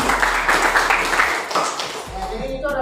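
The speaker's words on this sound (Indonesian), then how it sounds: "Tepuk tangan dulu" A class of students in a school lesson gives a short round of clapping, steady for about two seconds before fading as a teacher's voice continues.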